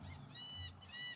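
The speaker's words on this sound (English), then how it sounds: "we have a lot of ducks, and people are feeding them" Ducks calling in short honking squawks while people feed them on a walk outdoors, a few quick calls over faint background noise.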